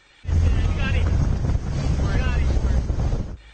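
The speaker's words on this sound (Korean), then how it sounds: "그린피스 환경감시선이 일명 쓰레기 섬을 찾아 태평양을 항해합니다" Strong wind buffets the microphone aboard a Greenpeace ship sailing the Pacific, a steady close roar with water and hull noise and a faint voice underneath.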